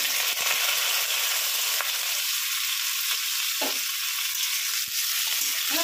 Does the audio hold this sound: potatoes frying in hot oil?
yes